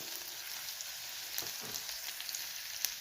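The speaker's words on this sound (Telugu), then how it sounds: "ఇది వేసుకొని వేయించుకోవాలి." Garlic cloves fry in oil for a spinach dish, giving a steady, even sizzle with a faint crackle throughout and no voices.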